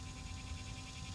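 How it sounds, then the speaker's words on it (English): A steady, dense cicada drone with a pulsing shimmer, continuous throughout, buzzing in the background, with no voices. "Can you hear those cicadas in the background?"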